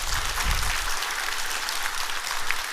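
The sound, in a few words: audience applause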